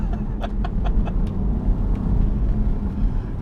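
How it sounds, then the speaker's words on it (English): A low, steady exhaust rumble from a BMW M3 Touring drones throughout, with a few brief higher clicks or ticks early on; no one speaks. "do you hear that exhaust?"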